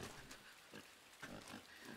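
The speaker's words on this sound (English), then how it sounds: "The hell is wrong with this pig?" A pig in the side-scrolling game Inside grunts and oinks in several short, rough bursts over a faint, noisy backdrop, close but fairly quiet.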